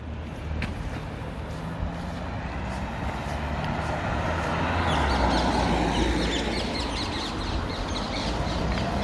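Birds call intermittently over a steady outdoor hum of distant traffic in Richmond, London, including harsh crow-like caws, moderately loud and somewhat distant.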